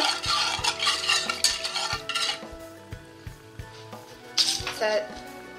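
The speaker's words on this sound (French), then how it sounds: "Je mélange bien" Vegan bread pudding mixture with rum or vanilla and cinnamon being stirred in a bowl or pot, with scraping and clinking of a utensil in bursts, loudest at the start and again near the end.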